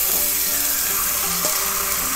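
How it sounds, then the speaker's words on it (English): Beef sizzles loudly in a hot cast iron pan over onions in hot grease, a dense, steady frying hiss with faint stirring scrapes, close and continuous with no talk. "Ooh, that sizzle."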